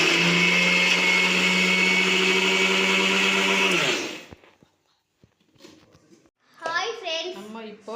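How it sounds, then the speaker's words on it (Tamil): A mixer grinder whirs loudly for about four seconds grinding sugar and cardamom, then cuts off abruptly; afterwards come faint handling noises and a voice speaking. "இதை மிக்சியில் இப்போது லைட்டாக அடிச்சிடலாம்."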